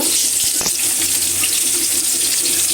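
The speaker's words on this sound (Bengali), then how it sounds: "এই যে একটু পানি দিয়ে নিলাম মশলাটার মধ্যে" Water is poured into a pan of spices with dried chilies and onion, making a steady splashing trickle that runs alone and close for under three seconds.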